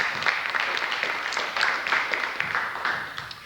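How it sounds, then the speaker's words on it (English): Steady applause from a crowd at a jazz and poetry event, dense clapping at an even level throughout, with no voices standing out. "Please give Fred a big round of applause"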